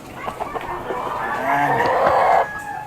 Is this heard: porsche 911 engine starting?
no